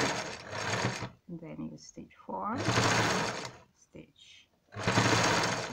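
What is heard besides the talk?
sewing machine stitching pleats on a pillow sham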